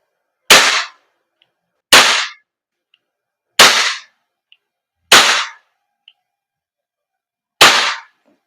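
A WE Glock 17 Gen 5 airsoft gas blowback pistol fires five sharp, loud cracking shots at uneven intervals, each a crisp snap with a brief tail, separated by near silence and faint clicks.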